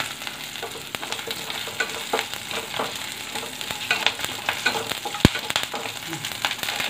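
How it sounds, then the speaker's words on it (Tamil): Green chilies sizzle and crackle as they fry in hot oil with mustard seeds for a Gujarati dhokla tempering, a steady close spatter with scattered pops and one sharp crack near the end. "இந்த பச்சை மிளகாய் போட்டு"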